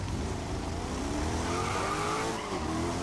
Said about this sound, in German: Du bremst voll und das Auto rutscht sich trotzdem komplett weg.